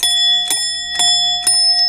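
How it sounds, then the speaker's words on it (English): A handheld bell struck three times at an even pace, each ding bright and ringing with a long sustained tone that carries between strikes, close and loud with no talking. "I've got my bell."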